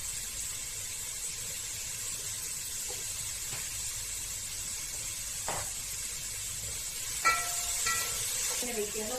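Onions frying in oil with ground tomato paste for chicken dum biryani make a soft, steady sizzle with a few light stirring clinks, the last louder toward the end, and no one talking.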